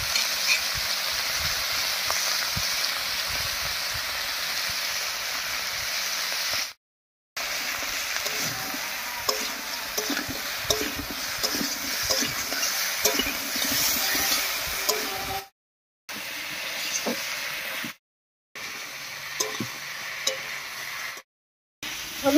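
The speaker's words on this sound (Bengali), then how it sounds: "হলুদ লবণ দিয়ে খুব ভালো করে মিশিয়ে নিয়েছি।" Winter vegetables with salt and turmeric are stirred in a pan over the heat, giving a soft, continuous sizzle with scattered scraping and tapping, cut by several brief gaps.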